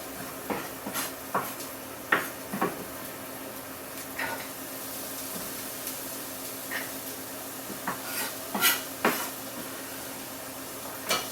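Vegetable shepherd's pie filling stirred in a pot, with scattered clinks and scrapes of a utensil against the pot over a faint sizzle, close and fairly quiet.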